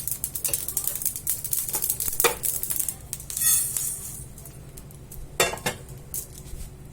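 Roasted spices for a sour bitter gourd pickle are tipped from a pan onto a plate, giving scraping and clinking of metal and utensils in a few close, distinct bursts with quieter rustling between.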